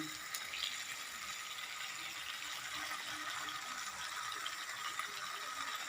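Momo frying in a pan with a generous splash of Kissan sauce, a soft, steady sizzle running evenly throughout at low volume, with no talking.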